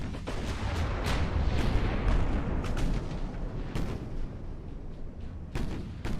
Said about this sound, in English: I've still got 3 turrets firing